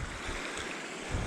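A creek swollen and backed up behind a beaver dam flows with a steady, close rushing wash of water, continuous and without pauses.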